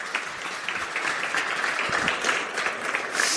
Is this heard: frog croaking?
no